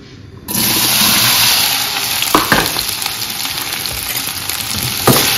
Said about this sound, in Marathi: आता भेंडी फ्राय करून घेऊ आधी तेलात.